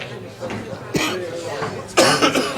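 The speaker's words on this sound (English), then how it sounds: "That was like a cough." A man coughs after swallowing something: a short cough, then a louder, harsher burst about a second later, close to the microphone, with speech around it.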